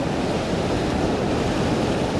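Ocean waves wash in over coastal rocks on the Central Coast near Sydney, a steady broadband roar of surf and churning water filling the whole stretch without pause, close and fairly loud with some wind buffeting the microphone.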